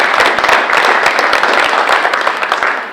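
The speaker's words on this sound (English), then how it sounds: "I want to give yourselves a round of applause" Loud, lively applause from an audience at an elementary school grand opening, many hands clapping close and continuously throughout with no speech on top.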